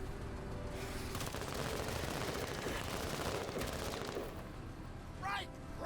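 Gunfire from a turn-based tactical battle in the video game Menace rattles on continuously, dense and steady for several seconds, with a sharper burst near the end.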